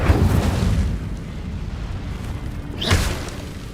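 Incendio fire spell cast in Hogwarts Legacy, a loud whooshing burst with a deep rumble, then a second flaring whoosh near the end, close and full.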